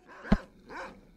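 A dog gives a short sharp bark and then a softer whimpering yelp in the video game S.T.A.L.K.E.R., nearby and moderately loud.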